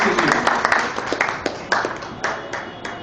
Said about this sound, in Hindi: तो बहुत जोरदार तालियां हमारे मेहमानों के लिए